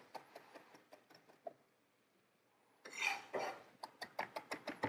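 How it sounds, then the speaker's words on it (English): A knife chops young, tender supermarket parsley on a cutting board. Quick, light taps come first, then a pause and a brief rustle, followed by a run of sharper, louder rhythmic chops close by. "it just needs chopping up"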